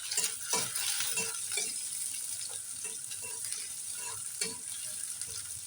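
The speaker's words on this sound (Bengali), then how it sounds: "পেঁয়াজটা একটু লাল লাল করে ভেজে নেব।" Chopped onions sizzle softly in a pan for a banana flower fry, a steady hiss broken by occasional scrapes and clicks of a stirring utensil, all fairly quiet and close.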